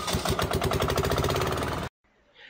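A large engine powers a 2-in-1 shredder and decorticator machine, running loud and steady with a throbbing rhythm for nearly two seconds before cutting off abruptly into near silence.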